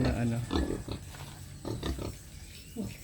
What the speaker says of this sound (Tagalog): May dalawang baboy na nabili.